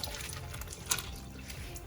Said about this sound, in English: I'm gonna switch on the water and just wet